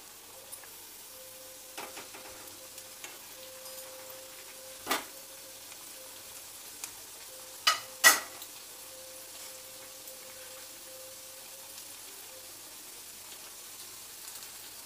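Aloo tikki shallow frying on a high flame, a soft steady sizzle with a faint hum and a few sharp clacks and spatters, no voices.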